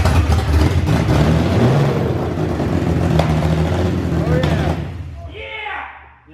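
A BMW S54 engine swapped into an E34 fires for its first start, running loud and rough with sharp backfire pops. Then it drops away as voices speak.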